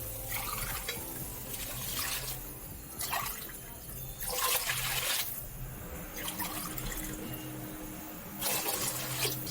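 Several glasses of water are poured into a cooking pot for mutton mandi biryani, in three or four gushing pours separated by short pauses, close and fairly loud, with no talking.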